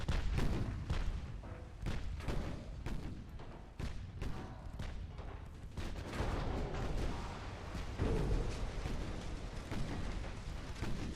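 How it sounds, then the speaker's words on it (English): Warships in Ultimate Admiral: Dreadnoughts, with a torpedo hit exploding amid naval combat: dense, rumbling booms and repeated gunfire crack and roll continuously at close, heavy volume. "I think I just got torpedoed again. So I heard a boom."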